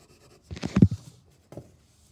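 Pencil scrubbing on paper while shading an airplane drawing, heard as a few short, close rustling strokes clustered together, followed by one more brief scrub after a pause.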